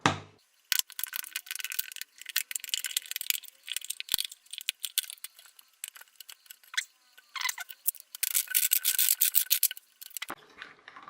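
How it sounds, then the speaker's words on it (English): Scissors snip and crunch through a brown plastic bottle to remove its bottom, giving irregular bursts of crackling, rasping cuts and rustles separated by short quiet gaps, close up. "So I'll cut the bottom off this one."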